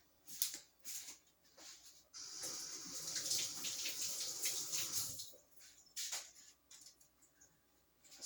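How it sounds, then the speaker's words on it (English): Tap water running over hands at a sink, a steady splashing rush for a few seconds between quieter handling sounds, fairly faint and close. "let me rinse my hands off"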